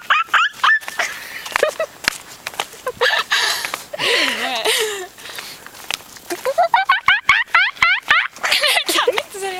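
A person imitates an ape with a run of loud, erratic hoots, squeals and yelps in choppy bursts, quickening into rapid rising whoops near the end.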